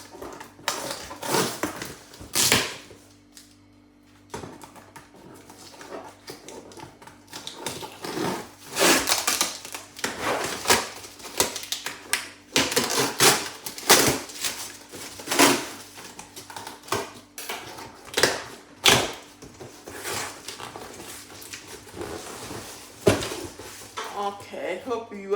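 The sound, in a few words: unboxing a LogiPack package from Germany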